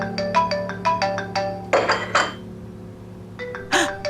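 A mobile phone ringtone plays a bright repeating melody of short chiming notes, with a gap in the middle before the tune starts again, fairly close and with no voices over it.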